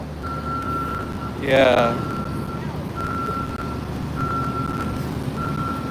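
A truck reverses near a shipping container, its backup alarm beeping in steady, evenly spaced pulses over traffic and outdoor background noise, with a brief loud burst and a short spoken word partway through.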